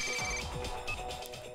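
A phone rings from an unknown number, a faint warbling electronic tone repeating in quick pulses over the short stretch.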